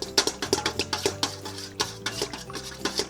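A spoon stirring corn pudding mac in a bowl, a close run of quick clinking and scraping strokes in an uneven rhythm, with no talking.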